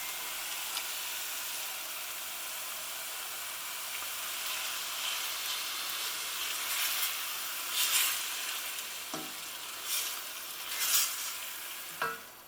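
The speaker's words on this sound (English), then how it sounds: "I'm going to add the tomatoes." Tomatoes going into a hot frying pan with chard and black beans, a steady close sizzle with stirring scrapes and a few louder bursts toward the end, no voices.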